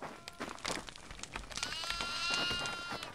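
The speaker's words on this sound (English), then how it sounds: "Y'all ready to sacrifice some goats?" Goats bleat repeatedly in the horror video game Devour, with several loud wavering cries overlapping across a busy game soundscape.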